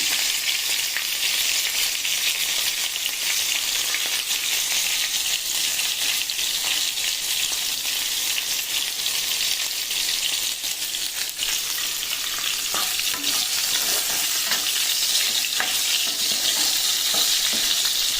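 Eggplant (brinjal) curry sizzles steadily in a pan as it is stirred, a loud, continuous frying hiss with faint scraping throughout and no voices.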